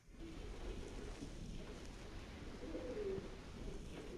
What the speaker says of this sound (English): And this is full of pigeons,